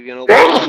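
A single short, sharp sneeze bursts out right after a brief spoken word.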